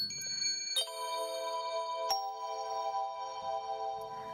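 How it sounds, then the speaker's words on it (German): A bright electronic chime announcing a new order in dispatch software rings out, sustained tones ringing on with a second struck note partway through, clear and close over a quiet background. "Neue Aufträge erscheinen immer im Vordergrund und kündigen sich mit einem Klingeln an"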